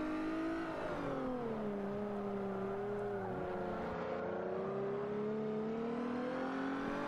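A race car in a racing video game powers out of a hairpin, its engine note sliding through rising and dropping harmonics as it revs and shifts, loud and steady throughout with no talk.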